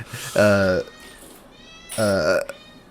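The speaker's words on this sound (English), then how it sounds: "My cat's screaming because our girlfriend just got home." A pet cat screaming at home with two loud, drawn-out, harmonic yowls about a second and a half apart, close by, with faint talk between them.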